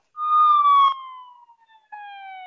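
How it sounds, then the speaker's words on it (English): A police car siren wails in a clear, falling tone, sounding fairly close, then breaks off briefly and starts again, heard alone without talk. "I can hear police sirens now."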